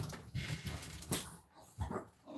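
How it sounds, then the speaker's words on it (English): An indoor dog gives a few short, muffled barks and whimpers in quick bursts, fairly faint and close by, with no talking. "Stop barking."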